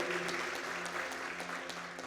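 A congregation bursts into applause during a church service, many hands clapping in a thick continuous patter that fills the room, with a faint low tone sustained underneath.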